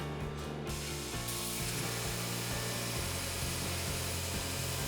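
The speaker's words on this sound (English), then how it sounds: "I'm grinding off the parts of the bar that I had welded together in the previous episode." An angle grinder works down the welded sections of a pattern-welded steel bar for a seax blade, a continuous loud abrasive whine with a shifting pitch as the disc bites into the metal.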